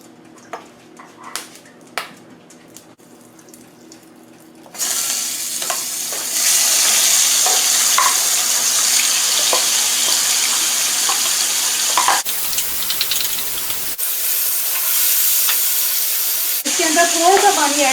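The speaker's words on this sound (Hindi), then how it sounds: "तो चलिए इसको हम फ्राई करना शुरू करते हैं।" Marinated chicken starts frying in a pan for chicken fried rice, a few sharp clicks giving way to a loud steady sizzle that runs on with brief breaks, without talk.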